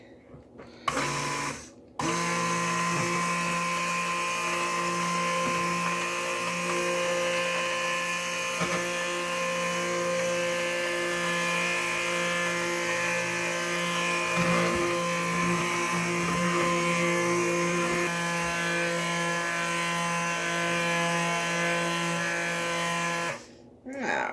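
An electric mixer whirs steadily on high speed through a soap mixture, a continuous droning motor hum that starts abruptly and runs unbroken for more than twenty seconds before cutting off.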